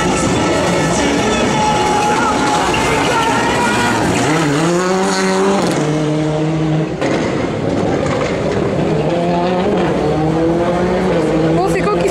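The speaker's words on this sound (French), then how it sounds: "c'est la Toyota Corolla WRC numéro 15" A Toyota Corolla WRC rally car roars past at speed during a Belgian rally stage, its engine note climbing and dropping through sharp gear changes as it nears and pulls away, with a commentator talking over it.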